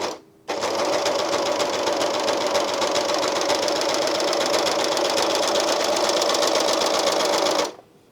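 A Janome 8004D serger runs steadily with differential feed for about seven seconds, sewing fabric with a loud, even, fast mechanical whir that starts and stops abruptly.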